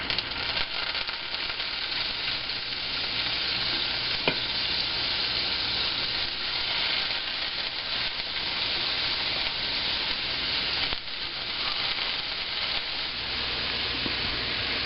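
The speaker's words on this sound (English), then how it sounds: "My butter's all melted, so I'm going to start searing my scallops" Scallops searing in melted butter over medium-high heat, a steady, close, dense sizzle that holds evenly throughout with only a brief dip near the end and no talking.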